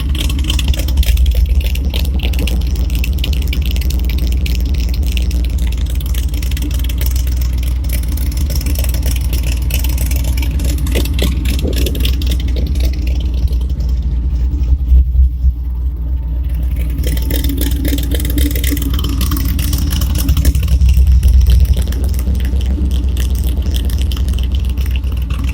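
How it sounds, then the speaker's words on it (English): A 1962 Chevrolet C10 pickup's engine rumbles steadily through a side exit exhaust, a loud, deep idle with a couple of brief throttle blips, heard close and alone with no talking. "Listen to that. Side exit exhaust."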